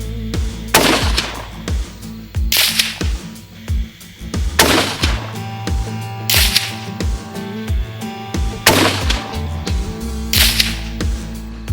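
A CZ 515 American bolt-action rifle in .22 WMR fires a series of loud, sharp cracks, about two seconds apart, over a steady tonal background.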